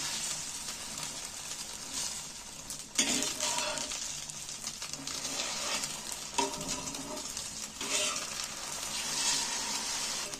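Rolled egg for egg paneer sizzles in a frying pan as it is flipped and turned, a continuous hiss broken by sharper scraping bursts of utensil against pan at several points.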